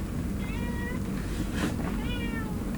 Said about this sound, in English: I'm sorry for my cat is meowing.